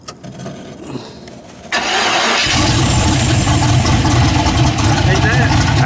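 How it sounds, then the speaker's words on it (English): A Willys gasser engine fitted with carburetors on a tunnel ram cranks and fires up after a second or two, then settles into a loud, steady, rumbling idle that carries on to the end. "See if I can fire it up and get the idle adjusted."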